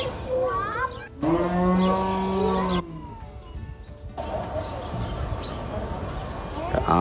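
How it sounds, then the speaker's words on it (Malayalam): Cows and calves moo loudly on a farm in Qatar, with a long low drawn-out call followed by further bellows, while someone talks over the farm's background noise. "പശുവിൻ്റെ ചെറിയ കുട്ടികളൊക്കെ കിടാങ്ങളൊക്കെ ഉണ്ട് അവിടെ. അതിൻ്റെ ഒക്കെ സൗണ്ടൊക്കെ കേൾക്കാൻ തന്നെ ഭയങ്കര ഒരു ഫീലാണ്."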